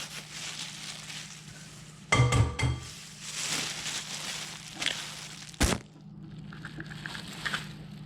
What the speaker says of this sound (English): So now we're gonna add the 2 eggs.